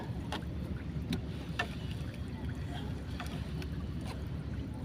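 A small fishing boat used for net fishing being paddled with a wooden oar, soft repeated splashes and knocks at a loose rhythm over a steady bed of wind and water noise.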